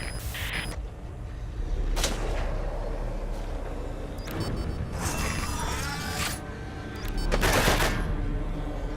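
Bursts of automatic gunfire in Metal Gear Solid V: The Phantom Pain, several loud volleys spread through the stretch with short gaps, over a steady rumble of engine and ambient noise.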